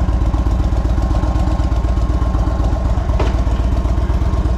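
An Indian Chief Dark Horse motorcycle engine runs at a steady, loud idle with a continuous low throbbing pulse, close by, with no talking over it.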